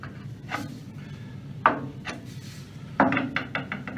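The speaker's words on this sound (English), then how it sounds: "So here, all we're doing is just running a chisel across the top of it." A steel chisel is pushed across the top edge of a Spectra Slim Edge installation to strip off excess glue, giving a few short scraping strokes and sharp rasping bursts up close.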